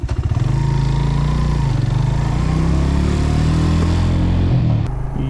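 A motorcycle engine runs close and loud while being brought to a stop in a parking area at Rohtas Fort, Jhelum, Pakistan, a steady idling rumble that drops away near the end.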